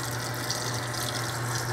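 Tap water runs steadily into a sink as a men's razor is rinsed under it, a close, even rushing hiss with a low hum beneath and no talk.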